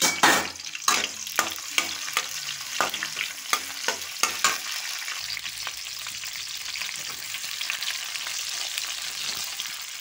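Chopped onion and tomato fry in a pan for fish curry. A few clinks from a stirring utensil come early, then a continuous close sizzle settles in steadily with no talking.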